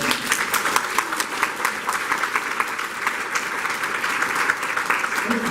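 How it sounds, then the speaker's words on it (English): Audience at a grants workshop giving a round of applause, steady, dense clapping from many people in a room, loud and continuous throughout with no speech over it. "Big round of applause for all of you."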